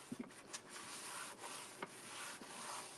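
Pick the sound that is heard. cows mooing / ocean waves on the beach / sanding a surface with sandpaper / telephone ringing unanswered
sanding a surface with sandpaper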